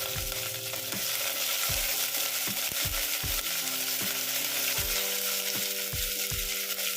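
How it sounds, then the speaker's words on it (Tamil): Onion, dried red chillies and fresh curry leaves sautéing in a pan: a constant oily sizzle under repeated sharp scrapes and knocks of a spatula against the pan, close and steady, with no talking. "வெங்காயம், வரமிளகா, பச்சை கருவேப்பிலை நல்லா வதங்கிருச்சுங்க."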